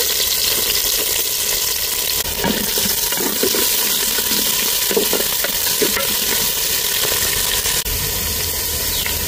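Onions hiss and sizzle in hot oil with garlic and mustard seeds for Mangalore-style chicken curry, a loud constant frying crackle with occasional soft stirring clinks close by.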